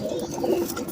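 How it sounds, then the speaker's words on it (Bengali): Pigeons coo close by in a low, soft, rolling burble lasting about a second, with no talk over it. "দেখেন এই যে খাকির সাথে গেন্দা কবুতর"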